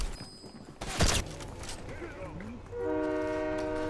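A train horn in the Fortnite video game blows a sustained, loud tonal blast near the end, following gunfire and busy game noise, with players talking excitedly around it.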